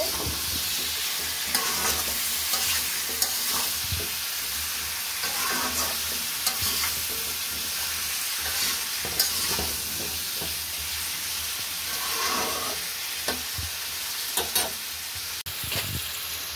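Spiced katla fish and cauliflower curry is stirred in a sizzling pan, a continuous close frying hiss with occasional scraping knocks of the spoon against the pan.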